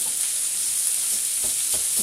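Frozen carrots and peas fry in oil with extra oil added, a steady close sizzle and hiss throughout with a few soft stirring scrapes, no talking.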